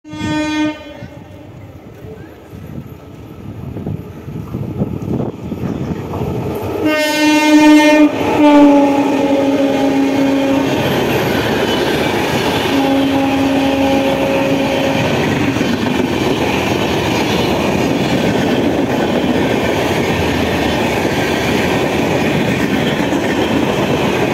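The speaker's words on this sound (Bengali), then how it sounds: "এটা হচ্ছে গেল সদ্য রিলিজ হওয়া কুম্ভ এক্সপ্রেস" Kumbh Express running through Dankuni Junction, its horn blaring in long harmonic blasts before the steady rumble and rattle of the passing train carries on loud and close for a long stretch.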